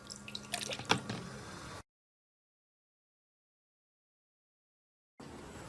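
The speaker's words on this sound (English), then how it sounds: "And I got some water right here to rinse them off." Water splashes and drips over carburetor parts being rinsed during a Walbro carb rebuild, a short burst of close, wet trickling, then silence before faint background resumes.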